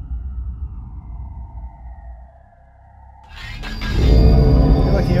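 Healing spell effect from the fantasy tactics video game Myth II: Soulblighter: a low rumbling drone gives way, about three seconds in, to a loud swelling burst of shimmering, crackling magic.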